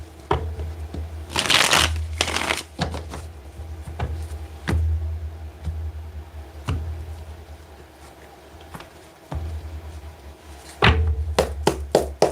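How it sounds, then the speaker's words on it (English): A deck of cards being shuffled close up, with several bursts of quick riffling and soft taps between them, heard alone without talk. "Let's get one more shuffle."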